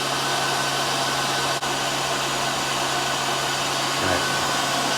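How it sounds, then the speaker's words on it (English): Cooling fan on a Kong Lil' Foot PCP air compressor whirring steadily with a broad, airy hiss and a low hum underneath, constant and close with no voices. "Turn the fan off."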